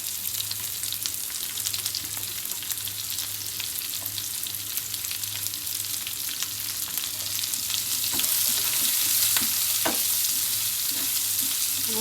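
Chopped onions frying in a pan for cauliflower masala, a loud close crackling sizzle with a low steady hum beneath, stirring scrapes growing more frequent and louder toward the end, no speech.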